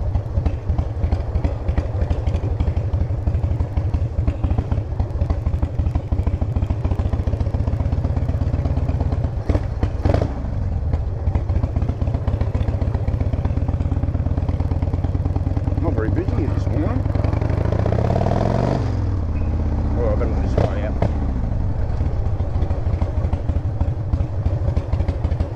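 A Yamaha V-Star motorcycle engine idles with a steady, rumbling clatter throughout, close and loud, briefly revving around the middle, with a voice now and then.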